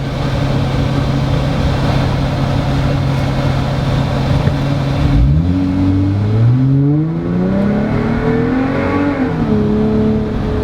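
A Jeep Wrangler JL or Gladiator JT engine, with the AC switched on, idles steadily and then revs up hard while pulling from a stop to about 30 mph, its pitch climbing in rising sweeps as it accelerates. The engine note is loud and close, with no talking.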